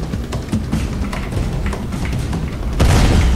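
Explosions in the video game Dusty Trip, a dense run of booming blasts and thuds close together, growing heavier in the last moment.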